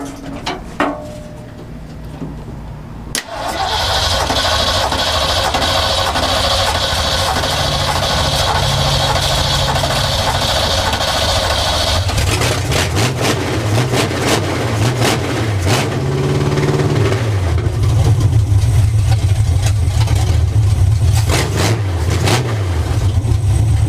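A Ford F100 truck with a swapped Tremec 5-speed cranks briefly, then fires and roars into a loud, steady run close by, with repeated revving swells in the second half and no talking.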